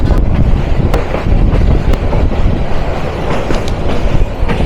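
The Tista Express rolls along the rails in a steady, loud, close rumble with faint rhythmic clicks from the wheels and some wind buffeting the microphone.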